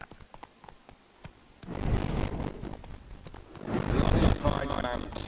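Horse hooves clip-clopping in The Witcher 3, a soft rhythmic trot that grows louder partway through, with people talking over it.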